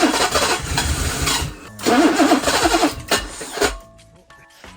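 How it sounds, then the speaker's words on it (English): A BMW E23 engine cranks, catches and runs roughly for a few seconds before dying, loud and close, with a couple of short restart attempts and a quiet tail at the end. "The engine turns over, which is great. It kind of starts up for a few seconds, but doesn't want to stay on."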